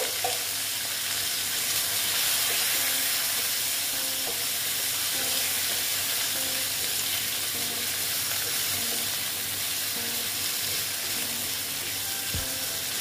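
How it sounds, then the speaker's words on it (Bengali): Potatoes fry in a pan with turmeric, giving a dense, continuous sizzle that stays close and steady, with faint stirring clicks and scrapes now and then. "আলুগুলোকে আমি ভেজে নেব"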